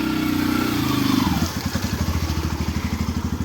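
A motorbike engine idles close by, then settles into a rapid, rhythmic putt-putt pulse that continues steadily, loud and alone.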